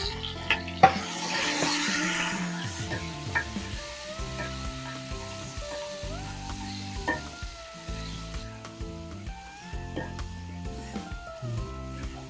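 Tomatoes sizzling in a pot while cooking beef sinigang, a soft frying crackle with stirring knocks and scrapes, fairly quiet, with a voice talking over it.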